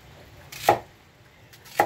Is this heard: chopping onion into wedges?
yes